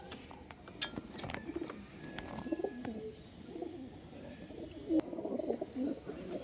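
Domestic pigeons, heavy birds in moult, give soft low coos near and far, with a few sharp chirps and clinks over a quiet room.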